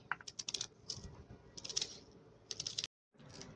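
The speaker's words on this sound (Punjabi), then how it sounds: "ਬਿਲਕੁਲ ਬਰੀਕ ਬਰੀਕ ਆਪਾਂ ਜਿਹੜੇ ਪਿਆਜ਼ ਕੱਟਾਂਗੇ" A knife chops onions finely on a board, producing rapid clusters of crisp, close taps in quick bursts, with a brief silent pause before the chopping resumes.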